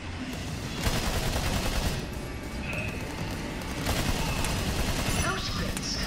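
Gunfire in the Battleborn video game rattles in dense, continuous bursts with heavy low rumble and occasional louder shots, loud and sustained, with a voice talking over it.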